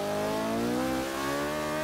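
The engine of a McLaren P1 in the video game Forza Motorsport 5 roars loud and close, its pitch climbing steadily under hard acceleration, with a faint tire squeal blended in and no talking.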